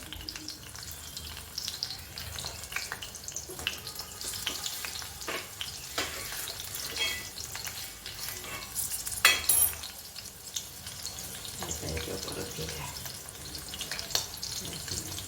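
Stuffed okra (bhindi) fries in a pan with a steady, crackling sizzle up close, broken by occasional clatter and stirring noises.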